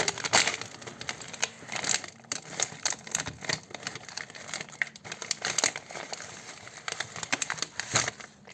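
A crinkly bag of Blue Takis chips is opened up close, giving a run of irregular crackling, rustling bursts of plastic crumpling that keep going throughout, loud and sharp, with no talking.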